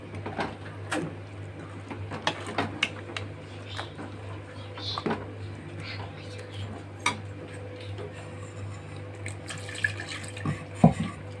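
Running water splashes and trickles in short bursts with small clinks and taps as a mixer jar is rinsed, over a steady low hum.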